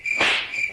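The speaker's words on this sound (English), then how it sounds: "Crickets." A cricket chirps as a comic sound effect, a steady high-pitched trill with a brief louder swell, close and alone with no talk.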